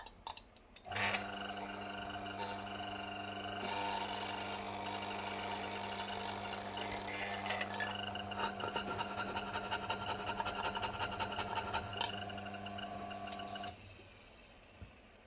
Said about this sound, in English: So let's turn on the grinder.